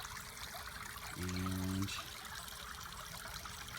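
Water from a koi pond fountain trickling and splashing steadily into a covered filter pond outdoors, a continuous soft wash with a brief low tonal hum partway through and a quick spoken word.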